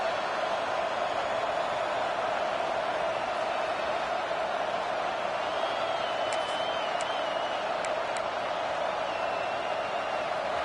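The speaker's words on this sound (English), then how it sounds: "The Tide crowd rolling noise down on the Saban field on third down." A dense, steady roar of a large Alabama college football stadium crowd on third down fills the whole stretch, with faint whistles and scattered shouts rising above it.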